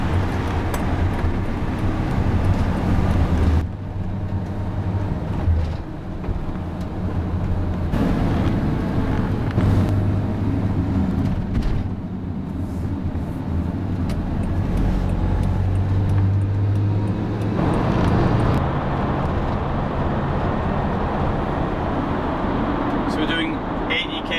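A Hymer ML-T 4.5-ton motorhome engine droning steadily at under 1,800 rpm while driving through a tunnel, a loud, continuous low rumble with someone talking over it throughout.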